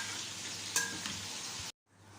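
Quiet, steady sizzle of chicken frying in a pan for chicken karahi, with a brief utensil clink, cutting off abruptly near the end before faint sizzling resumes.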